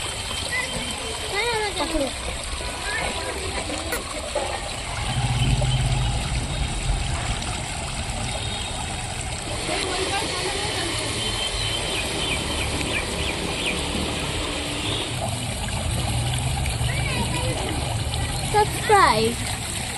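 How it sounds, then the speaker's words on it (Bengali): An artificial fountain in a park splashes water in a continuous rushing wash, with a brief louder surge partway through and people talking over it. "প্রথম হলো এই আর্টিফিশিয়াল ঝর্ণা।"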